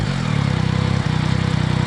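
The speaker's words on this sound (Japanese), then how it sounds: "この3気筒のねエンジン音ですよね" Yamaha Tracer 9 GT three-cylinder motorcycle engine running close by, a steady throbbing idle with an even pulsing rhythm and no talk over it.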